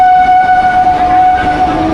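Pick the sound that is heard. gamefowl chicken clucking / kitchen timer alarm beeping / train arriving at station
train arriving at station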